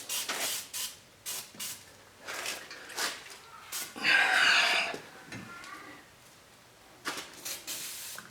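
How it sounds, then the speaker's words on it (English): Short hissing bursts from an aerosol can spraying penetrating oil onto a stubborn front hub and wheel bearing assembly on a 2004 Chevy Suburban, close up, with one longer spray in the middle between brief pauses and someone speaking. "let's put a little oil down in there, a little penetrating oil"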